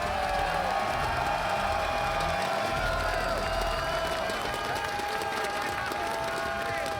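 A packed arena crowd of StarCraft fans at IEM Katowice roars and cheers continuously in a dense, sustained wash of noise, with a voice faintly audible within it.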